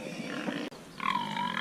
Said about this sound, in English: This is our sows.